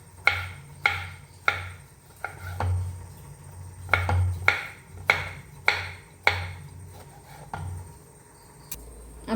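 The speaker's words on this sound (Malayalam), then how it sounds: "തക്കാളി കട്ട് ചെയ്തിട്ട് എടുക്കുന്നുണ്ട് കേട്ടോ." A knife chops tomatoes on a cutting board in a Kerala home kitchen, about a dozen sharp thuds at an uneven pace, close and distinct, with quiet handling sounds in between.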